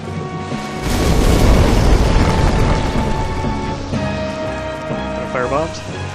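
Fire bombs burst in the game Demon's Souls with a loud, rumbling boom that swells and slowly fades, followed by crackling flames and sharper effects under a talking voice.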